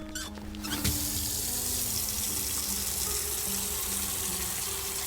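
Tap water runs steadily into a container in the Autopsy Simulator morgue, filled with room-temperature water for a lung float test, a continuous close splashing gush after a brief start.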